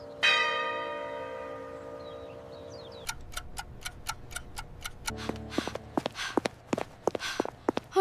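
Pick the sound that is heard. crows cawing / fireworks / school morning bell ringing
school morning bell ringing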